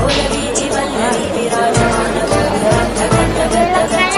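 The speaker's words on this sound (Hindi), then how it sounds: "बहुत लंबा लाइन भक्तों भीड़" A crowd of devotees waits in a long temple queue in a hilly area, their voices forming a close, continuous babble with several people talking at once.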